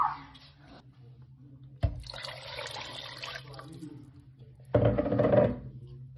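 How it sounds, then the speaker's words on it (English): Water poured into a cooking pot while making Kenyan pilau with chicken, two short splashing bursts separated by a quieter running pour, close and moderately faint. "To add more water."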